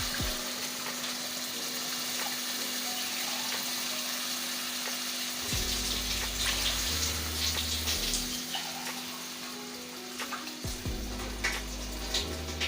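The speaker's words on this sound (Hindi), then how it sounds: "तो अब मैं इसके अंदर पानी डालूँगी।" Water poured into a pot of chicken korma on the stove, about two and a half glasses, giving a steady sizzling, splashing pour that starts midway and continues in bursts over a constant background hiss.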